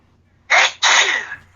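A single close, loud sneeze breaking into two quick bursts: a sharp intake followed by a forceful explosive release.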